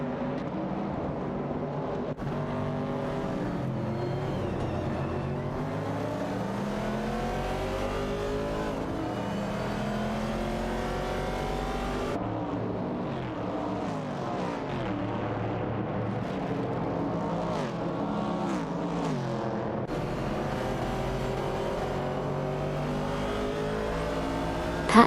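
Race cars roar continuously around a track, engines accelerating and shifting through rising and falling pitch sweeps, loud and sustained for the whole stretch with no voices.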